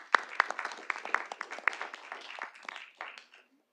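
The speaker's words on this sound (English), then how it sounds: "Let's give them a round of applause for those 4 officers." A short round of applause from a small crowd at a board meeting, scattered claps that thin out and stop after a few seconds.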